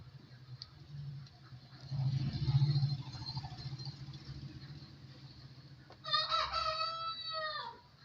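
Chickens in a rooftop poultry setup cluck softly in the background, then a rooster lets out one clear, fairly close crow near the end, with no talk.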